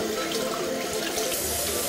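Lukewarm water runs steadily from a tap into a sink, a continuous close rushing splash with no talking.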